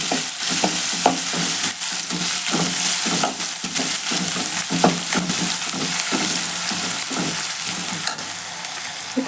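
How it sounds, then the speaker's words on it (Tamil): White onion frying in a pan for a fried egg gravy, with a steady close sizzle and repeated scraping clicks of a spoon stirring throughout, no voices. "இப்போ வெள்ளை வெங்காயம் சேர்த்துக்கிறேன்."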